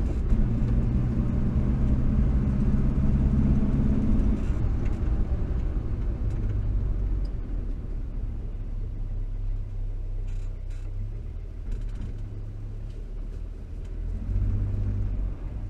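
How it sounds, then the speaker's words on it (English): A 1962 Morris Minor engine rumbles low and steady nearby, easing off gradually as it pulls away gently, with no sharp revving. "So if I pull away nice and gentle, we don't get that screechy noise."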